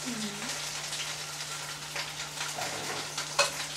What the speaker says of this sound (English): And they're going to start sauteing a little bit.